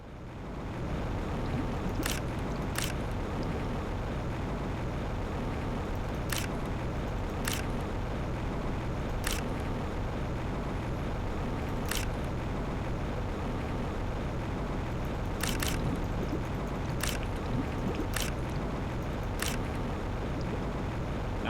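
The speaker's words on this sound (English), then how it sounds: "I'm actually using my jetpack underwater." Underwater jetpack thrust in The Planet Crafter video game, a steady muffled rushing hum that holds at an even level throughout, with faint periodic clicks rising above it.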